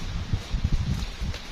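Strong storm wind gusts in uneven, rumbling pulses that buffet the microphone, loud and close throughout.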